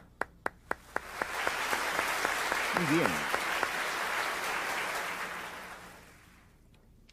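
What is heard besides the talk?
applause in a church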